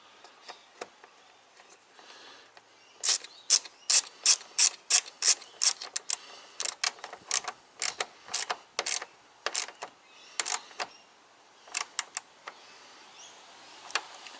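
A ratchet undoes the last bolt on a BA Falcon power steering reservoir, working upside down: bursts of quick, sharp clicking in uneven runs, close and clear, with no talk.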